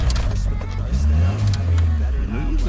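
A Honda Civic EF sedan with a converted manual transmission rolls under its own power, its engine giving a steady low hum that rises a little as it moves off, with a person talking over it.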